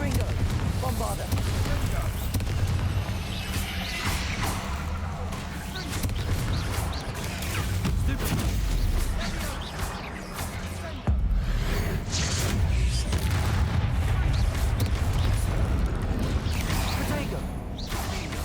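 Fire and blasting spells from the Hogwarts Legacy video game, Incendio, Confringo and Bombarda, burst in a dense run of whooshes, crashes and explosions, loud and continuous, with a voice speaking over the spell effects.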